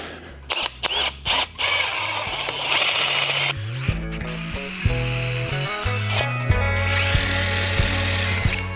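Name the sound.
drill boring into a log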